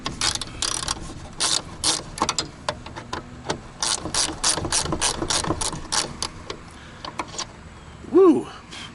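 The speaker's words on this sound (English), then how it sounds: "let's go ahead and use the other end of the wrench" A ratchet wrench clicks rapidly in close, repeated bursts while loosening the mirror bolts on a Ford F150 OBS pickup, with a short squeak near the end.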